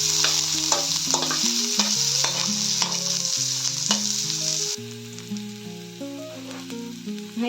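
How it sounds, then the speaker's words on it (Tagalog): Ginger sautés in a hot pan with a steady bright sizzle, while a spoon scrapes and taps through it in repeated stirring strokes over continuous background music. "At ngayon po ay isusunod na natin tong ating luya sa paggigisa. Hahaluin po natin."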